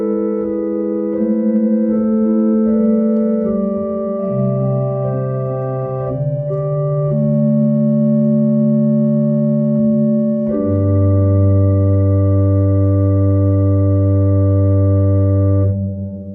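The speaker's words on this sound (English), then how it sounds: "We have a stopped diapason, which is a flute." Stopped diapason flute stop on a digital organ, a soft, hollow, mellow tone playing slow sustained chords and a moving bass line, loud and alone with no talking.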